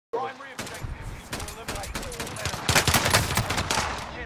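Rifle fire in a video game, a rapid string of sharp shots and bursts that grows denser toward the end, with voices talking underneath.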